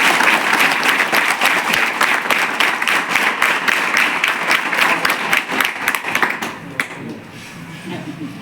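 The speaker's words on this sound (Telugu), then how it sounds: "అందరం కలిసి చప్పట్లు కొట్టి వచ్చే లయ ఎలా ఉంది" A large student audience claps together in a steady, even rhythm at a motivational talk, the loud unison claps repeating quickly before trailing off near the end.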